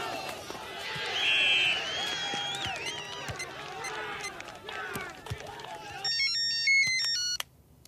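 A telephone ringtone plays a repeating electronic melody over background voices and crowd noise, then a cleaner, louder stepped ring tone takes over toward the end before cutting off.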